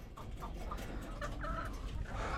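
Chickens cluck inside their backyard coop, which is fitted with waterers and a nipple drinker. Several short, overlapping calls ring out at close range over a steady ambient hiss, with no talking.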